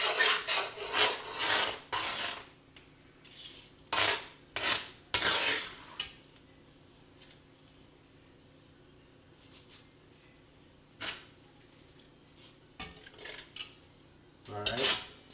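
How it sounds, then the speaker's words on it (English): A spoon stirs seasonings into Cajun shrimp and sausage jambalaya in a pot, making close scraping and rasping strokes in short bursts with quiet gaps between them. "I still need to add the seasonings. Those are going to go in now. Give it a stir."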